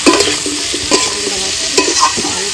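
Small fish with potato and pointed gourd frying in a pan, stirred with a utensil: loud, close sizzling with a series of scraping stir strokes, no talk.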